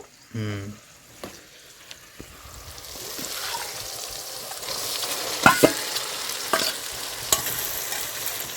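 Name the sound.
chicken added to pan, stirred and frying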